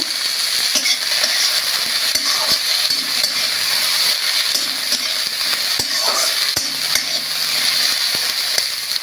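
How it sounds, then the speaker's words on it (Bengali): Sliced roselle peels are stir-fried in a pan with spluttering mustard seeds over a gas flame, giving a loud, continuous sizzle and hiss broken by scattered sharp pops and spoon scrapes, with no voices. "এবার কেটে রাখা চুকাইয়ের ছালগুলো দিয়ে দিচ্ছি। বেশ করে নাড়িয়ে চাড়িয়ে নেব।"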